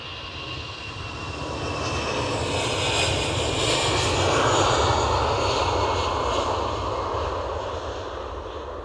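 A WestJet jet airliner at Edinburgh Airport, bound for Halifax, produces a steady engine rumble that builds to a broad peak near the middle and holds, heard alone without talk.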